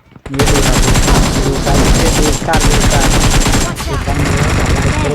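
Loud, sustained automatic gunfire in the mobile battle royale game BGMI (Battlegrounds Mobile India), dense rapid bursts that run almost continuously, with two short breaks in the firing.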